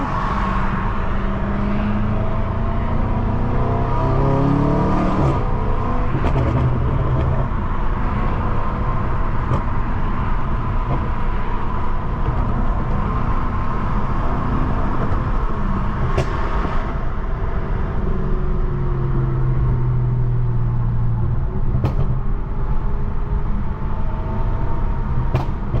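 Inside a 700+ hp BMW M550i, a loud, continuous engine roar with rising and falling revs accompanies upshifts and downshifts on the highway, alongside heavy road and wind noise and occasional sharp clicks.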